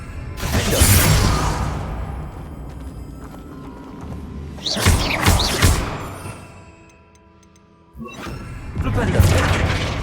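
Flipendo spell cast in Hogwarts Legacy, the wizarding video game: three loud, separate bursts of rushing, crackling magic, each a broad whoosh-and-boom that swells and then fades, with near-silent gaps between them.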